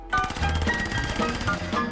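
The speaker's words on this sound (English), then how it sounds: "here's the live fire test" M1A1 Thompson submachine gun from a World War II weapon mod firing in Fallout 4, a rapid sustained burst of close, loud automatic shots with no talk.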